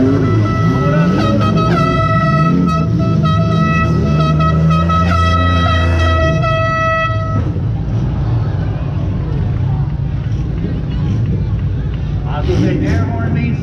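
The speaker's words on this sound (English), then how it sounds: "Air horn means stop." An air horn sounds at a race track, a loud sustained blast lasting several seconds over the engine noise of cars on the circuit, followed by continued track racket and a commentator's voice.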